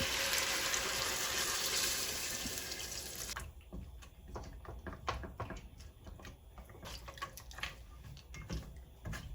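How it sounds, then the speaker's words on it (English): Water pours from a tap into a pot of goat meat for Jamaican curried goat, a steady rushing stream for about three seconds, then lighter splashing and drips as the flow stops. "I'm gonna go ahead and put some water in it."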